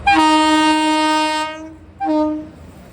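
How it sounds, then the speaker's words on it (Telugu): A train near Rajahmundry sounds its horn loudly and close by: one long, steady blast of about a second and a half, then a shorter second blast after a brief pause, with no voices. "రాజమండ్రి వైపు వస్తుంది ట్రైన్."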